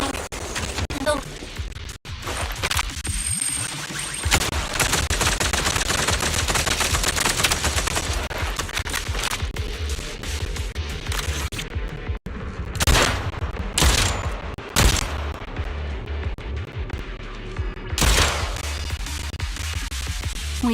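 Heavy cannon fire in the Zenless Zone Zero video game, a dense barrage of booming blasts and explosions filling the whole stretch, loud and continuous with several sharp standout hits near the end.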